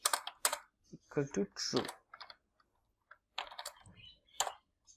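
Crisp clicking keystrokes on a computer keyboard while VBA code is typed into an Excel workbook, coming in short bursts near the microphone, with a voice talking between and over the typing.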